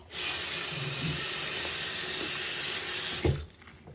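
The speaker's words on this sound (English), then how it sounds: "And then we rinse." Tap water runs steadily into a sink as a six-year-old boy rinses his hands, a close, even rushing hiss that cuts off abruptly near the end with a small splash.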